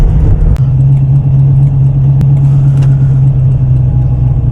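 Tuned TVR Chimaera 400 with a blown exhaust gasket, idling at tick over; a loud, close, steady low rumble with a rough, ticking texture and a couple of sharp clicks, no voices.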